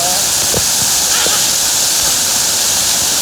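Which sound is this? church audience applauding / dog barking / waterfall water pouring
waterfall water pouring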